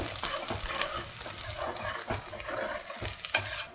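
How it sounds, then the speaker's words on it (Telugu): Onions frying in oil until brown for an Andhra-style gongura chicken curry, a steady close sizzle with frequent scraping stirs throughout, no voices. "ఆనియన్ ఫ్రై అయిపోయింది, బ్రౌన్ కలర్ వచ్చేసినాయి"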